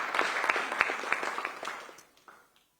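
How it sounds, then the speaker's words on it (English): An audience applauds a speaker, a mango farmer, at an EU Climate Diplomacy Week event: dense, steady clapping from a crowd that thins and fades out toward the end. "Give her a big round of applause."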